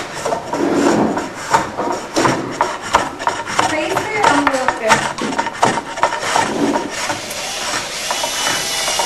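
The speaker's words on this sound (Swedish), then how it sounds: "Spåret under skidan markeras och hyvlas till." A groove is planed along the underside of a handmade birch ski, giving repeated scraping, rasping strokes of the hand plane on wood, close and fairly loud, in an uneven working rhythm.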